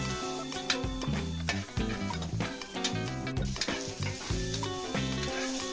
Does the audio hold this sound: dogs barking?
no